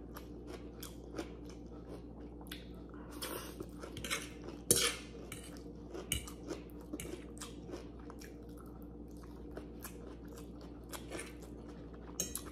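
Close, quiet eating of pancit sotanghon with crunchy vegetables: utensils clink and scrape on a plate between soft bites and chewing, with sharper clatters now and then.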